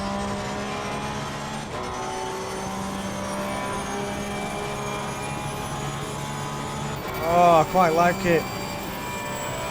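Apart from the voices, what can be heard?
Porsche GT3 race car engine at Monza, video game Assetto Corsa Competizione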